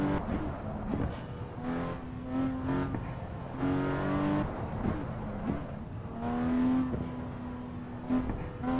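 Rear-wheel drive race car engine in the Assetto Corsa racing game, revving up and down in repeated surges with steady engine tone throughout, loud and close, with no talk over it.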